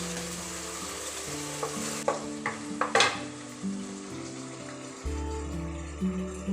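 Ground spices with turmeric sizzling in a pan as they are stirred, a steady close frying hiss with a few sharp scraping clatters from the spoon and a low hum underneath.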